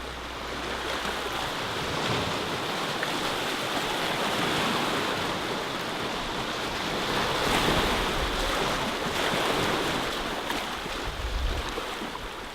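Ocean surf rolls onto the beach at Noosa at sunset, a continuous broad wash of breaking waves with wind rushing across the microphone, steady and fairly loud with no voices.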